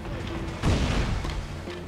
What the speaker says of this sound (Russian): И взрыв!